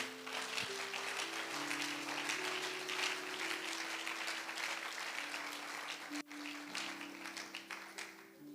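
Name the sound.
congregation applauding in church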